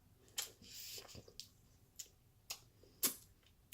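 Crab shell of a Maryland blue crab being crushed while eating, heard as a few close, quiet wet cracks and squishes spaced irregularly over a soft, hushed background.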